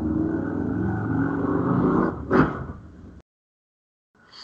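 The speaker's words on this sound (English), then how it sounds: "Did you have a motorcycle go by your house too?" A motorcycle passes by outside a house, a loud broad engine rumble that swells and holds for a few seconds, peaks briefly, then cuts off abruptly into silence.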